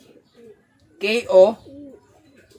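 Low, soft coos from a racing pigeon, short tonal calls separated by pauses, with a voice briefly talking in the middle.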